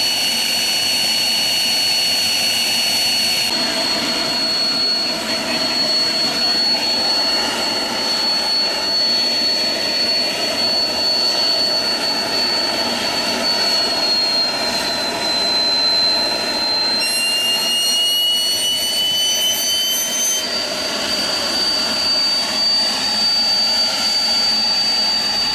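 Homemade jet engine built from a turbocharger running steadily at a technical college, a loud continuous roaring whine with a high piercing tone that shifts slightly in pitch, sustained throughout.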